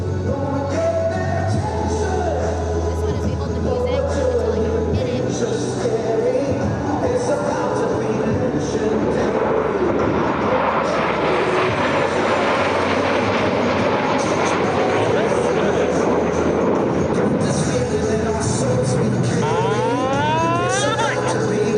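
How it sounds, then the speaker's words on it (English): US Navy Blue Angels jets numbers 5 and 6 approach the flight line at about 400 mph at the 2025 Wings Over South Texas Air Show, a loud sustained roar with an announcer talking over it. "Blue Angels 5 and 6 are approaching the flight line at 400 miles per hour."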